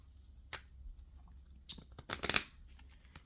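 Cards are shuffled close by in a quiet room: a few crisp riffles and snaps at the start, then a louder flurry of rapid flicking about two-thirds through, with no talking.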